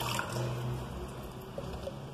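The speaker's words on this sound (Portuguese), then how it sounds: "Agora você primeiro adiciona a água" Warm water trickles and pours into a pot while mixing dough for a simple beginner's pot bread, a soft continuous liquid stream with light gurgles under faint room noise.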